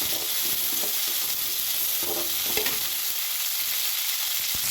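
Small shallots sautéing in oil for a homemade egg gravy give a steady, dense, close-up sizzle throughout, with faint stirring scrapes underneath and no talking.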